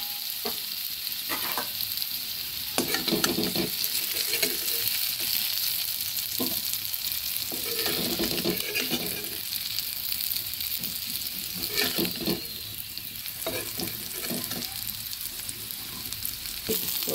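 Potato pieces fry in oil in a pan, giving a steady, close hiss and crackle that runs throughout, broken now and then by brief stirring scrapes, with no talking.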